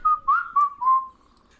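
Soft, breathy human whistling imitates a bird's chirping song: four short rising and falling notes close to the ear, then a thin held tone fading out, with nothing else around it.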